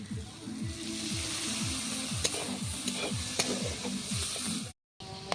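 Layered wheat-flour snack fries in hot oil with a steady close sizzle and faint bubbling crackle, under a low rhythmic mechanical hum, ending with a brief drop to silence.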